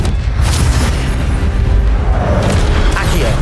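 A loud, dense blast of ancient magic in the wizarding game Hogwarts Legacy: a sustained, roaring boom with crackling, whooshing texture, close and filling the whole stretch, with no talk.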